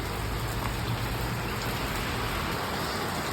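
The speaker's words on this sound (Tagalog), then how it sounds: "Ay, umulan na guys." Heavy rain falls steadily in a dense, even hiss with close drops pattering on surfaces, loud and unbroken throughout, with no voices heard.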